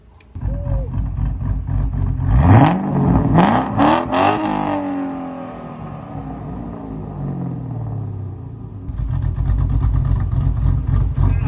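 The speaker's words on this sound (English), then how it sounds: "it's going to be louder and deeper than a stock engine since I have the cams" A modified 2005-2009 Ford Mustang GT 3-valve V8 with aftermarket exhaust and cams revs hard several times with deep rumbling bursts, then settles into a loud, throaty idle that swells again near the end.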